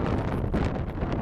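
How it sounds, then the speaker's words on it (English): Blustery wind battering the microphone outdoors, a continuous low rumbling roar with gusty swells and no voices. "It's very windy out here."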